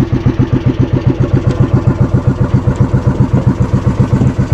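A fishing boat's engine idles close by, a loud, steady, rapid chugging pulse that stays even throughout, with no talking.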